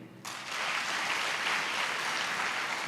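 Applause from the audience at a motivational poetry show at a university, a dense, even patter of many hands that starts abruptly and keeps going at a moderate distance, with no voices over it.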